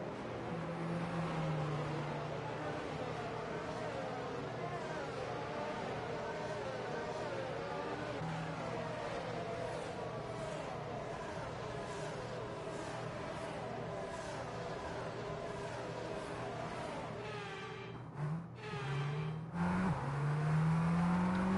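Race cars in an F1 video game, Miami round, run in a line behind the safety car, giving a continuous engine drone with shifting pitch throughout, while a voice talks over it.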